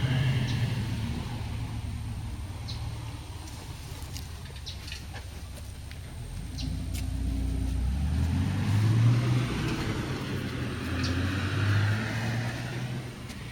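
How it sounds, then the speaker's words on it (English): Cars passing on a road outside large acreage properties, a steady low rumble that swells as a vehicle goes by near the middle, with faint bird calls and a rooster-like call in the background. "Oh, sorry, cars coming by."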